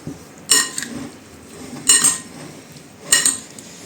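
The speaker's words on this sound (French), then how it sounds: "Donc j'ai mis un peu de cassonade dessus, je vais remuer." Fruit salad of pineapple, kiwi, orange, clementine and apple with brown sugar being stirred in a bowl, three distinct bursts of clinking utensil scraping against the bowl, close and fairly loud, separated by quiet pauses.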